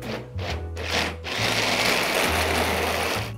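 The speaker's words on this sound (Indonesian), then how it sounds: "Makanya sekarang kita pakai food prosesor atau chopper, bukan pakai blender." A food processor chops Balinese spice paste for ayam cundang with a loud, close motor whir. It pulses in short bursts, then runs continuously.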